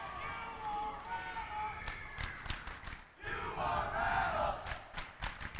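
Volleyball crowd in a gym at a girls varsity match against Fulton, chanting loudly in unison during a timeout, with a steady wall of voices and sharp rhythmic claps or stomps breaking through.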